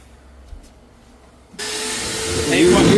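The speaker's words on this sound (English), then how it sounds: "Now use a vacuum." Near silence breaks as a vacuum cleaner starts up loud and close, and its steady roar swells a little as it pulls dust out of a PelPro PP130 pellet stove.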